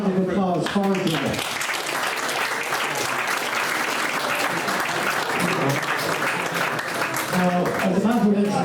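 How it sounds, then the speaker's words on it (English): Loud, sustained audience applause at an anniversary night gathering greets a man called to the front, with a voice speaking over the start and end of the clapping. "How about a round of applause for Joe?"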